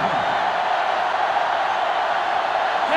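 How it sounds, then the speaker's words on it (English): A stadium crowd roars steadily and loudly throughout a college football matchup between Oklahoma and Ole Miss in NCAA Football 2005, a dense, unbroken wall of cheering with no individual voices standing out. "this crowd is going absolutely insane"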